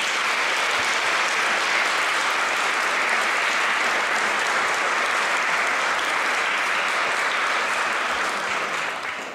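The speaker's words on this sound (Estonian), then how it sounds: "Aitäh sulle, Olger, ja ma arvan, et Olger on ära teinud ühe suure aplausi" Audience applause at a charity concert in Tõrva, Estonia, a dense, loud, sustained wash of clapping from a large crowd that holds steady for several seconds before tapering slightly at the end.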